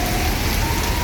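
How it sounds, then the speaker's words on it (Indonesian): Heavy rain falling outside a sleeper bus in Palembang, a dense, steady hiss of drops hammering surfaces, loud and continuous throughout the short moment. "Hujan deras."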